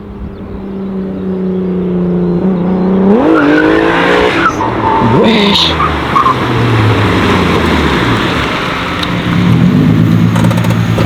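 A Volkswagen Golf 7R revs hard with a rising engine note, then its tires squeal and skid loudly and close, the engine roaring on under the screech while a voice speaks briefly.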